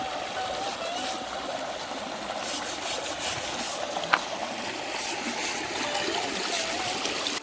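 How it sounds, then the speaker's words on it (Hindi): Fast-flowing river water on the Narmada at Sehastrdhara, a steady broadband rush and trickle that holds constant throughout, close and moderately loud, with no voices. "पानी बहुत तेज आ रहा है यहाँ पे"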